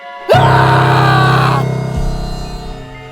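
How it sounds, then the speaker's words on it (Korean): A woman's long, loud scream for a horror story rises sharply and holds for over a second, then fades into a lingering, reverberant tail. "내 앞에 보이는 광경에 놀라 비명을 질렀어."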